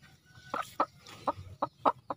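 Several breeding hens clucking close by in short, irregular bursts, with quiet gaps between the calls and no talking.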